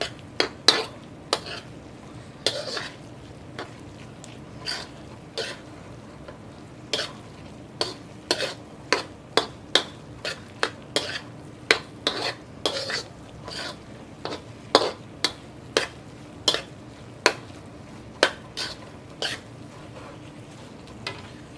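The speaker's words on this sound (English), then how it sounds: "Mix all of that beautiful creamy coconut sauce through with the quinoa." A spoon scrapes and taps repeatedly against a pan while creamy coconut sauce is stirred through quinoa, sharp clinks in an uneven rhythm over a low background hum, close and fairly loud; no talking.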